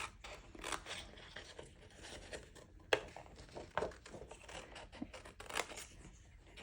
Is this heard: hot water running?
no